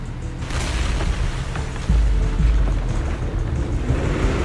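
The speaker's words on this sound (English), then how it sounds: "several explosions erupt, followed by tremors in the ground" Several explosions erupt in the video game Zenless Zone Zero, heavy booming low rumbles swelling into a loud, sustained roar like ground tremors, with no voices.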